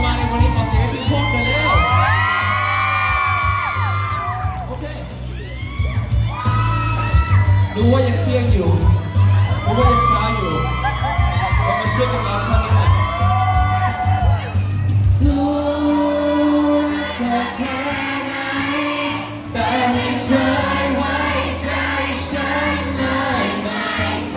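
A crowd cheers and shouts loudly and continuously at the launch event for the TicWatch E2 and S2 smartwatches, with high excited voices and amplified sound mixed in throughout.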